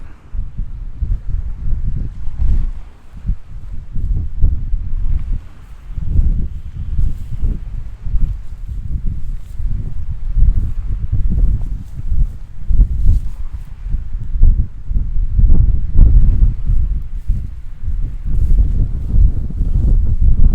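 Gusty wind buffets the microphone beside the River Humber while fishing, a loud rumbling roar that rises and falls in uneven blasts throughout.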